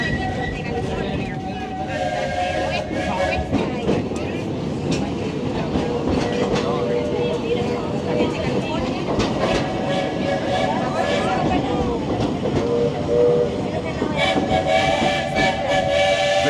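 The Magic Kingdom railroad train at Walt Disney World rolls along with a rumbling clatter and sounds its whistle in sustained blasts, while people talk over the ride.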